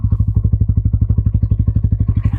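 A 2024 Bajaj Pulsar N160 motorcycle engine idles in neutral, a close, loud, even rapid thumping pulse that stays steady throughout with no talk.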